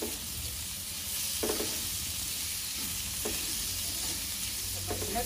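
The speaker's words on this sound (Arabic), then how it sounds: "هيا نبقاو نقلبو فيه شوية بشوية حتى هو بغينا كيتفتت." Chicken fries in a pan while being stirred, with a steady sizzle throughout and a few soft scrapes of the utensil at intervals, close by and with no talking.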